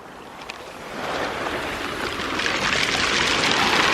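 Sea waves wash in at Brighton beach on a gentle morning, a steady broad rush of surf and water that swells louder toward the end, with some wind and no talk.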